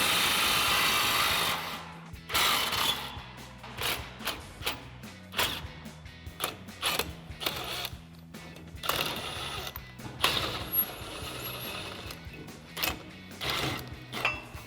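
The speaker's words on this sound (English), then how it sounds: "So we're going to remove the 4 21mm nuts off of our U-bolts with our 21mm socket." A ratchet with a 21mm socket works loose the U-bolt nuts on a Ford F-150 during a suspension lift install, giving bursts of rapid metallic clicking broken by short pauses and occasional clanks, close and alone.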